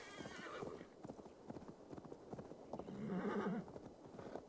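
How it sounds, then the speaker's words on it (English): A horse in the Assassin's Creed Valhalla video game clops along in a quick, steady hoofbeat rhythm and lets out a clear whinny toward the end, close and alone without talk. "Horse, jump over the fence."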